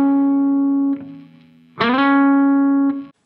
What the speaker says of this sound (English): what you hear is this note with the effect of the slide into it